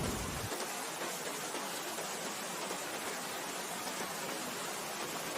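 Rain pattering against a window at night, a faint, steady, even hiss of drops with no distinct rhythm or other sounds, continuous throughout.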